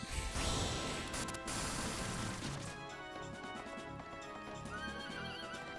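Rapid hooves clatter alongside a horse's whinny in a busy Suikoden 3 battle soundscape, loud and close, with a dense layer of other effects running throughout.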